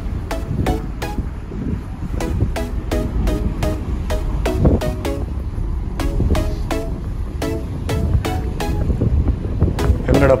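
A high-speed ferry's engine drones amid gusting wind and sea wash as it slows toward shore off Kangaroo Island, Australia, with a series of sharp knocks scattered over the steady rumble.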